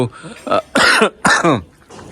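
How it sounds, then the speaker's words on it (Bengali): Steady, dense rain from a storm hissing down onto surfaces, a constant wash of pattering drops with no voices. "যার কারণে আসলে একটু কাশি হচ্ছে"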